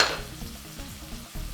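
Vegetables stir-fried in a pan with curry, thyme and white pepper for Nigerian fried rice, giving a steady close sizzle with scraping stirs, and a louder burst of frying near the end.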